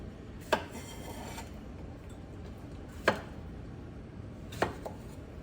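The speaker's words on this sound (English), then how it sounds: "Just cut the ends off here." A knife on a cutting board trims the ends off garden-grown cucumbers in a quiet home kitchen, three separate sharp, close chops spread several seconds apart with near silence between them.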